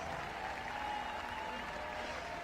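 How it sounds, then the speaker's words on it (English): Crowd applause at the 2015 Reebok CrossFit Games Murph event: a steady wash of clapping throughout, with voices mixed in. "Let's give those two a round of applause."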